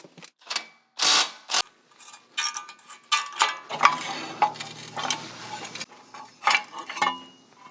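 Ratchet turning out 7/8 floor pan bolts on a Kubota tractor guard, uneven bursts of quick metallic clicking with clanks and pauses between strokes, close up and with no talk.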